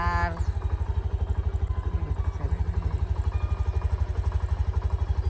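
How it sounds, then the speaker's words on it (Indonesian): Motorcycle engine running up close while riding, a loud, steady, rapidly pulsing putter with a brief higher whine at the start and no speech. "Berangkat dulu ya, naik motor."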